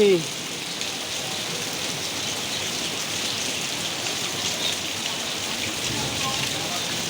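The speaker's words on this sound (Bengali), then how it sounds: "ঢাকা দুপুরে পর থেকে প্রচন্ড বৃষ্টি পড়ছে" Heavy rain pours steadily in Dhaka, a dense continuous hiss of drops on surfaces holding at an even, fairly loud level throughout, with a brief louder burst at the very start.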